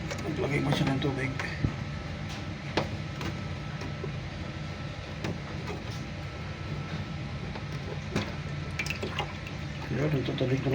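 An ice maker machine filling with water through its solenoid valve, a steady trickling and splashing at close range that runs for about ten seconds under a voice speaking.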